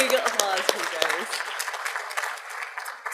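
A graduation ceremony crowd applauds graduates, with dense clapping and a few cheers from a large audience that gradually thins out over a few seconds.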